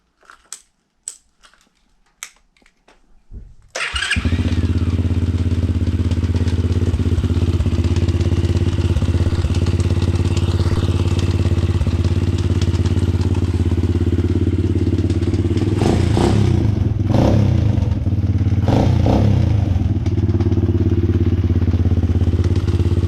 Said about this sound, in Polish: słychać takie chrupanie w tym silniku